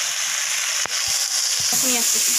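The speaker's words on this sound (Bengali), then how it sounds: "এটাকে ভাজা ভাজা করে নিচ্ছি আমি" Rice sizzles as it fries in a hot pan for a fish-head curry, giving a steady, close hiss with a few soft clinks and stirring knocks partway through.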